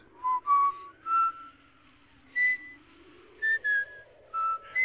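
Someone whistles a series of short, clear notes, about eight brief toots in irregular groups with quiet gaps and a faint hum between them.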